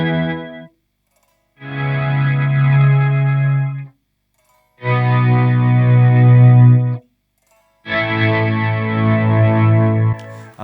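Three sustained, shimmering electric guitar chords through a Boss MO-2 Multi-Overtone pedal, swelling and each ringing for about two seconds with thick, layered overtones, separated by short silences.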